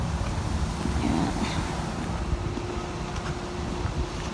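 Steady wind gusting across the microphone outdoors at a hospital, a constant low rumble with rustling buffets throughout, with no clear talk.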